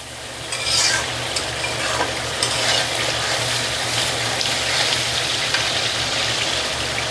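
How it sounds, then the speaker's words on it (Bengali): Pointed gourd (potol) dorma masala is stirred and fried in a pan, giving a steady, close sizzle with continuous scraping and a few louder strokes. No one speaks. "এবার এটাকে সুন্দর করে কষাই নিতে হবে।"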